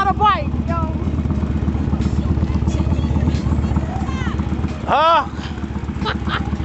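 A powerful motorcycle engine runs loud and steady with a rapid, throbbing idle-like drone throughout, swelling slightly in places, while people talk over it.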